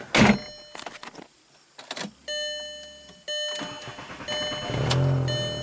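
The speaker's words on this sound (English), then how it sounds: "Kind of a little long crank time. Starts up." A 2003 VW Jetta with a door-related stall and no-start fault, its starter cranking for a couple of seconds before the engine catches and settles into a steady idle, heard up close from inside the car.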